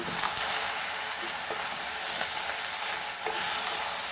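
Goan lady finger jeerem meerem, okra with crushed spice, being stirred in a hot pan, a constant loud sizzle and hiss with a few soft scraping strokes of the spoon.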